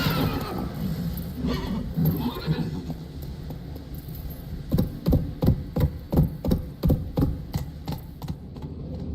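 Geralt's horse Roach in The Witcher 3, with a steady run of rhythmic hoofbeats and snorting bursts rising out of low game ambience and a faint hum, some vocal-like horse sounds mixed in.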